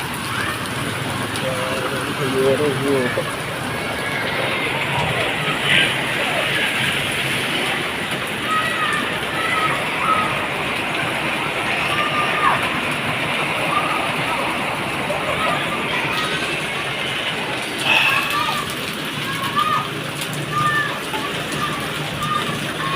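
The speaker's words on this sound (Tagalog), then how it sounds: "Malakas ng ulan." Heavy rain pours down with a continuous rush of floodwater throughout, a dense hissing wash; a voice speaks briefly underneath.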